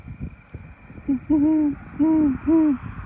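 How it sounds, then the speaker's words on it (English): Three deep, soft hoots of a great horned owl, spaced about half a second apart, over faint low background rumble. "Oh, there you go. Great horned owl. Hear that?"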